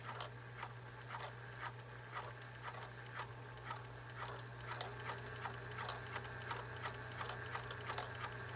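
A Pfaff 362 sewing machine is started by hand crank, its needle mechanism ticking in a steady quick rhythm over a constant low motor hum, close and fairly quiet with no talk.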